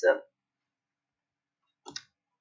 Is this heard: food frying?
no